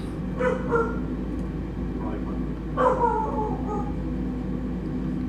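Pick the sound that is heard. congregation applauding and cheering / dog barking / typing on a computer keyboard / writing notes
dog barking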